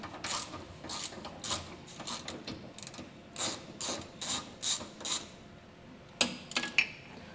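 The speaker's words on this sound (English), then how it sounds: "we're going to make sure that we have a 10mm socket on a ratchet" A ratchet with a 10mm socket undoes a frame rail bolt on a 2022 Chevrolet Silverado, giving close, rhythmic bursts of clicking strokes with short pauses between them.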